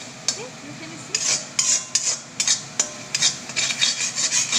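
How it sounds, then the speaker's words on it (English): A spoon stirs dum aloo masala in a pan, the oil seeping out at the edges, in repeated scraping, clinking strokes close by and gaining pace toward the end, with no talking. "But even after that, we continue stirring and stirring."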